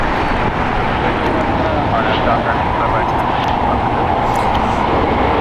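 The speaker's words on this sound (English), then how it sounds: "Spirit Airlines Flight 965 going to Detroit. It's an Airbus A320neo." A Spirit Airlines Airbus A320neo bound for Detroit at LAX produces a loud, steady broadband jet roar that stays constant throughout, with no break in the engine noise.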